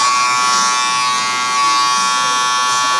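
Electric hair clippers run steadily during a skin fade haircut in a barbershop, a close continuous buzzing hum with a slight dip and rise in level.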